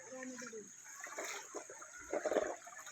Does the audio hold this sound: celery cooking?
no